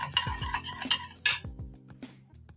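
A spoon scrapes and taps against a bowl while sugar is worked into yogurt for fruit chaat, with irregular close strokes and clinks that fade to quieter scraping.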